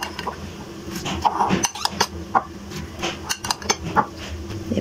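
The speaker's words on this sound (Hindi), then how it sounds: "अब इसमें मैं डालूंगी 1 अंडा। इसको अच्छी तरह से कर लेते हैं मिक्स।" An egg is beaten in a bowl for besan egg pakora batter, with a quick run of close, irregular clinks and scrapes of a utensil against the bowl.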